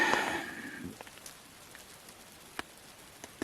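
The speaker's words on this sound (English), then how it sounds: "wet snow and some rain" Rain mixed with wet snow falls on a tarp shelter at a winter campsite, heard as sparse, faint, scattered drops and drips with a brief louder rustle at the start.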